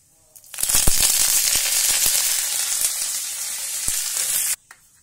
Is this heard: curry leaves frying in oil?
yes